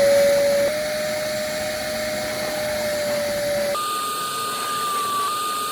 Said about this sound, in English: Now to get the last of the dirt out with the wet dry vac.